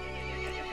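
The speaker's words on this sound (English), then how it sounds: "The horse grew angry and summoned the other monsters." A horse in the Resident Evil Village video game neighs, one loud sustained whinny that rings clearly above the game's background ambience.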